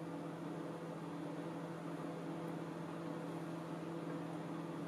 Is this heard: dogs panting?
no